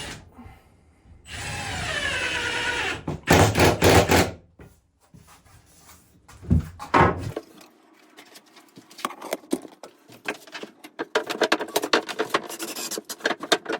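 A power drill set to low speed bores into wood for a sauna bench, with a sustained rising whine and grinding at first, then broken bursts and scattered knocks and rattles of handling the workpiece.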